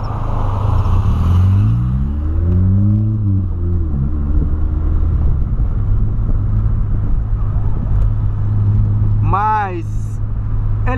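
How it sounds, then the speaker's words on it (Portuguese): A 2008 Volkswagen Polo drives in traffic with a steady, loud, low engine hum and road rumble from inside the car. A brief higher whine rises near the end. "Vou pegar um pouquinho do trânsito agora."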